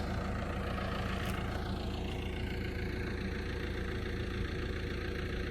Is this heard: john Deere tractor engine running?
yes